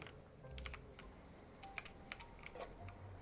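Computer keyboard fitted with silencer rings, clicked while gaming: a quiet, sparse patter of sharp key taps, isolated at first, then a quicker burst of several clicks, all faint and close.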